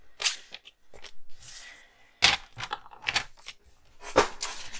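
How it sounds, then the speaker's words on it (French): A paper trimmer (massicot) slices through scrapbooking paper for a greeting card, giving several sharp, close cutting crunches in separate bursts with quiet gaps between them. "Donc, on va prendre notre massicot."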